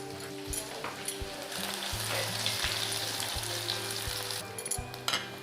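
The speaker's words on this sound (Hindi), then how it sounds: "सोरिषटा भल फुटी गला परे रसुण पकेबा" Mustard seeds and garlic fry in hot oil for a spinach and potato stir fry, giving a steady close sizzle with scattered pops and crackles. Underneath runs a low humming drone, and a few sharper clicks break through near the end.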